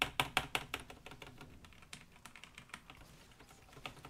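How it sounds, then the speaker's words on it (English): Computer keyboard keys click in quick bursts of taps while playing Team Fortress 2, close and fairly quiet, thinning out toward the end. "you can probably hear me clicking my keys quite a lot"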